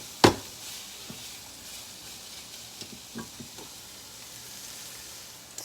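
Chopped green peppers and onions in olive oil give off a soft, continuous sizzle in a pan. A sharp clatter opens it, followed by a few light taps and stirring knocks, with no talking.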